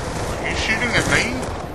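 Gunfire in the Call of Duty: Black Ops 2 campaign crackles in a steady fusillade under a voice, with continuous shots throughout the short burst.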